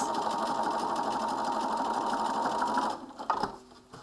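A sewing machine runs in a steady fast whir while edge stitching the sleeve-side seam of a coat, stopping near the end with a few soft clicks and handling sounds.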